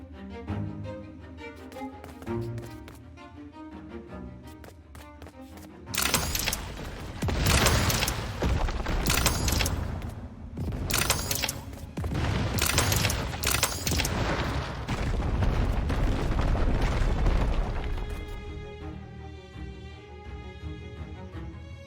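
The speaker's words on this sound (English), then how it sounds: "enjoy the first ever fireworks show in LEGO Fortnite" A fireworks show inside the LEGO Fortnite video game: a loud, dense barrage of rapid booms and crackling bursts that runs for about twelve seconds, with softer musical tones before and after the volley.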